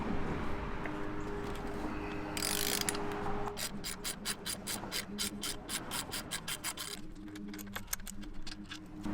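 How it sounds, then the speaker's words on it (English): Ratchet wrench loosening an engine mount bolt on a 2021 Kawasaki ZX-10R motorcycle, rapid rhythmic clicking in repeated bursts with a brief scraping rub, close and clear. "going to take off this bolt right here, which is one of the engine mounts."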